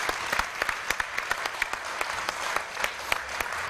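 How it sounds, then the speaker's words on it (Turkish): An audience applauds children's theatre performers before their play, with crisp individual claps standing out over a sustained, lively round of clapping from the crowd. "Alkışlar onlar için"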